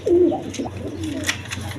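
Red Jacobin pigeons kept in cages on a farm give a low, close coo in a short rolling phrase, followed by softer murmurs and faint rustling.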